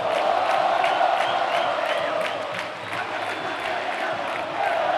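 Football crowd of Gama supporters cheering at Bezerrão stadium during a Candangão match between Gama and Brasiliense: a dense, continuous roar with whoops, dipping briefly mid-way then swelling again.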